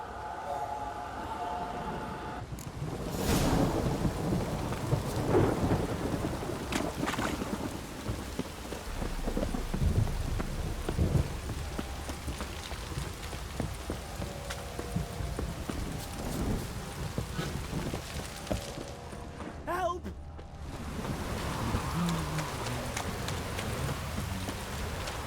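Steady rain pours down in The Witcher 3 game world, with deep rumbles of thunder rolling through and horse hooves clip-clopping beneath, a dense continuous storm bed lasting throughout.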